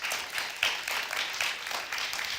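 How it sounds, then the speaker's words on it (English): Audience applauding in an auditorium, dense steady clapping from many hands that stays at an even level for the whole short stretch. "How about a round of applause for them?"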